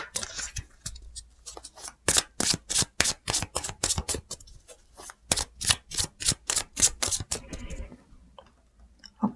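Tarot cards being shuffled during a reading, a steady run of crisp riffling and snapping bursts, close and fairly loud, with no talk over them.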